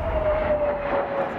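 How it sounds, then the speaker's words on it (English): An airplane lands, its engines giving a steady broad roar with a thin sustained whine running through it, fairly loud and unbroken for about a second and a half, with no speech. "And that's when his plane lands"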